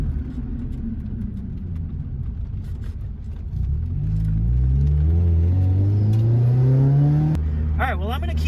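A Honda Prelude with new rear shocks driving on the road, its engine rumbling steadily and then rising in pitch as it accelerates, with a short high chirp near the end.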